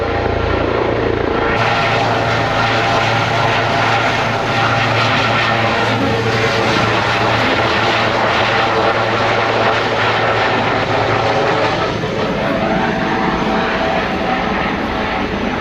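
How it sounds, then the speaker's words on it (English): A loud, steady aircraft engine roar with a rotor drone, continuous and close, holding its level throughout. "That's Mr. Home Bargains flying into the helicopter."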